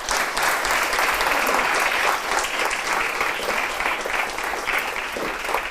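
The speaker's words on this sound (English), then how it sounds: "Let's give him a round of applause again." Listeners at an academic seminar give a sustained round of applause, a loud, even wash of clapping hands lasting several seconds with no voices over it.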